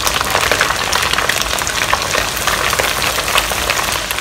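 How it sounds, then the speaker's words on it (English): Chicken wings deep-frying over medium heat in hot oil in a pan, a dense, loud, continuous crackling sizzle with rapid popping, close up and without talk. "We'll now start to fry the chicken wing."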